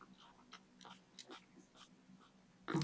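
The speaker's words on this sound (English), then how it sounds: "My dog's making really weird noises by the side of me." A dog makes odd snuffling, whiny noises close by, scattered through a quiet moment, ending in a sudden louder burst.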